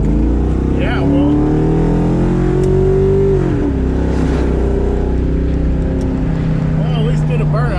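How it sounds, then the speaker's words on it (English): A nitrous-injected New Edge Mustang doing a burnout, the engine droning loud and close at high revs with pitch climbing and dipping, a steady roar with no talk heard. "at least did a burnout"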